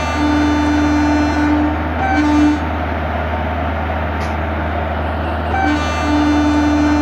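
Garib Rath Express train departing in Train Simulator Classic: a steady low locomotive rumble runs throughout, with long sustained horn-like tones sounding near the start and again near the end.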